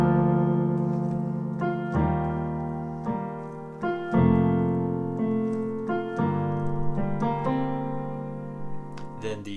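Solo piano plays the first verse line of a worship song: steady sustained chords with a short fill, close and clear, without talk.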